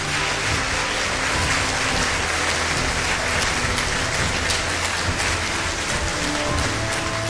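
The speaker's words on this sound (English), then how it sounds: "A round of applause," An audience at a state-of-education address in Ghana applauds to welcome the Minister of Education, a loud, dense, unbroken patter of many hands that sounds almost like heavy rain.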